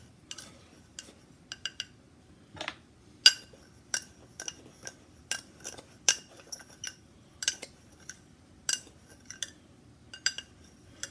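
Clinks and soft scrapes come from a close, quiet hand mix, with intermittent sharp ticks and rattles in irregular bursts over about eleven seconds and no talking.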